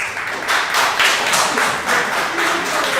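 Applause from a crowd in a sports pub, loud and close, with individual sharp claps pulsing through a dense steady wash of many hands.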